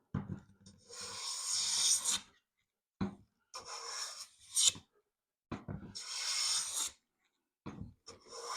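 A hand plane works across a butternut (white walnut) board in repeated rasping strokes of uneven length, close and clear, separated by short silent pauses as the direction of the passes changes.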